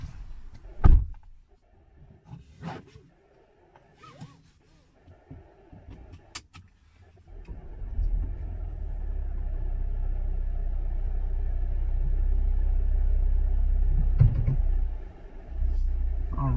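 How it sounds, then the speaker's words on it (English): A 2020 Jeep Cherokee Limited sets off on a test drive: a few door thunks and cabin clicks, then a steady low engine and road rumble builds and holds from inside the car. "Now it's time to go ahead and take the Cherokee on a test drive."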